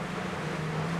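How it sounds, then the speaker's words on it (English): Wake breaking off a Chris Craft Catalina 30 motor boat at about 15 knots, with engines at 3,000 rpm, heard as a steady rushing wash of water under wind and a low engine drone. "The noise you can hear is the wake, which breaks off here, at the same level as the driver's seat."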